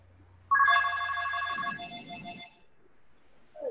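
Telephone ringtone going off during an online meeting, a single bright electronic ring burst lasting about two seconds that fades into faint background noise.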